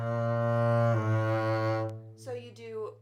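A double bass plays a low bowed note in a half-step warmup exercise, the note shifting once partway through, then a short voice comes in at the end.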